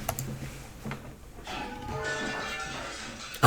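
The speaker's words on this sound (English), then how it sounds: "Some glass object splinters with a monumental crash behind us as we make for the exit" A glass object shatters with a big crash in the Almost Sane video game, sounding as a sustained bright smash of splintering debris that follows a few earlier sharp knocks and ends with a loud hit.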